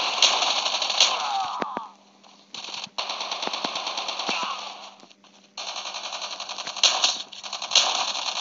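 Machine gun fire in the video game Call of Duty Mobile rattles in long, loud bursts, broken by brief pauses, with no talk over it.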